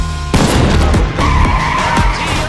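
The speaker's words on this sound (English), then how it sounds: "The car instantly lost control. It veered off and crashed hard into the valley below." A car skidding and losing control as a movie sound effect: a loud, close tire screech that sets in abruptly and holds for a couple of seconds over engine roar and thumps.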